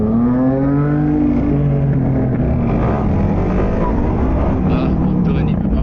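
Suzuki DR-Z4 motorcycle on the move, a loud, continuous engine drone with rising and falling pitch throughout, with a rider's voice over it in places.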